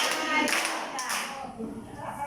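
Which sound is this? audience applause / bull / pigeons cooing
audience applause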